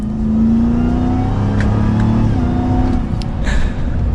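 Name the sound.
2023 Ram TRX Havoc Edition supercharged truck accelerating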